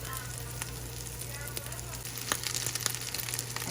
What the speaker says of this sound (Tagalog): inilagay ko na yung aking lamig na kanin